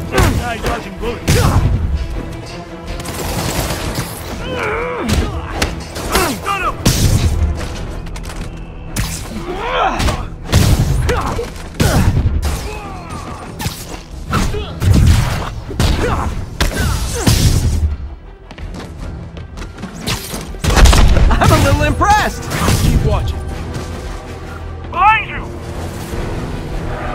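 Spider-Man video game combat with repeated gunfire bursts and heavy explosive thuds and crashes, loud and dense, with character voices calling out over the action.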